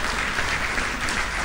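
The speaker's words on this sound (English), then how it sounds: "Can we give her another round of applause" Loud, dense applause from an audience at a formal ceremony greets a woman presenter, the clapping sustained and even throughout the short burst with no speech over it.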